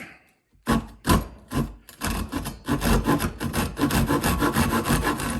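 A 9 teeth per inch pull saw cutting wood across the grain, a quick series of loud, rasping strokes in a steady rhythm after a brief quiet start, heard close and alone.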